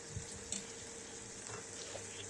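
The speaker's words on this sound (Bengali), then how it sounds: "কচুর লতিটাকে জাস্ট একটু এপাশ ওপাশ করে নেড়ে দিতে হবে" Taro stolons cooking in a covered pan, gently turned side to side: a quiet, soft sizzle with a couple of faint stirring knocks.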